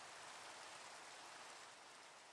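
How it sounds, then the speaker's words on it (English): Steady, soft rain falls on a surface as a dense, even hiss, a continuous gentle wash with no voices. "With the sounds of the rain"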